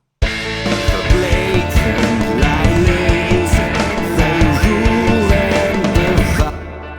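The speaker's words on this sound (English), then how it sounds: "there are some clean guitars in there" Double-tracked clean guitars in a soft chorus section, layered strummed chords over a full band mix with steady drum hits, loud and dense, no talking.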